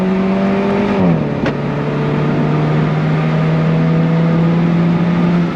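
A 2015 Alfa Romeo 4C Spider's loud engine roars close by, its pitch dipping briefly before settling into a strong, steady drone as the car pulls hard.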